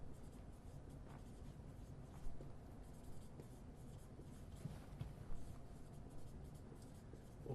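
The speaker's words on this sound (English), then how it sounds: "So I'll just write that up here." Marker or chalk scratching across a board during a business lecture, soft and fairly faint, with irregular strokes and a couple of sharper taps as letters are formed, no talking.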